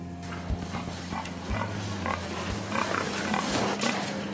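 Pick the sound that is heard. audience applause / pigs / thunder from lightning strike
pigs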